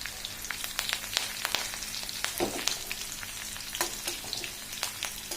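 Crushed garlic and curry leaves fry in hot oil with cumin in a pan for a cabbage and matki sabzi, giving a steady close sizzle broken by sharp crackling pops, with no talking.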